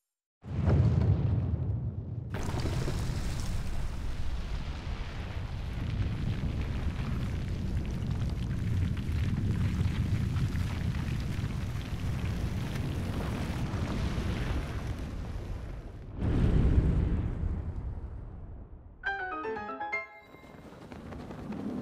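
A video game monster breathes a long, loud roaring rush of fire that runs for about fourteen seconds with no talking, then ends in a brief heavy burst and a short crackling tail.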